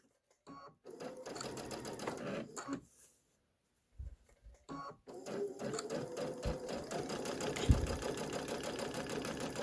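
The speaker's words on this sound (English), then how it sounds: "I'm basically stitching in the ditch" A domestic sewing machine stitches in the ditch along the quilted lines of a Halloween 'boo' bench pillow, running in steady, rapid, mechanical bursts. It stops briefly twice, then resumes and runs continuously until the end.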